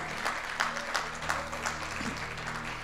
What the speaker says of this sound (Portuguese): Se quer aplaudir, aplauda com alegria.